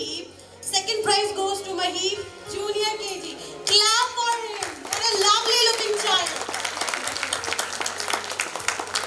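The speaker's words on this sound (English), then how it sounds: "Clap for him." Audience clapping for a junior kindergarten prize winner at a school annual function, bursts of applause mixed with an adult speaking over a microphone and children's voices, close and fairly loud.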